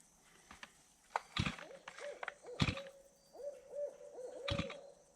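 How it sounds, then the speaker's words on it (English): A distant owl repeats its hooting call several times in a rhythmic series near a wooded creek, mixed with scattered knocks and rustling from nearby outdoor work. "We hear you, owl."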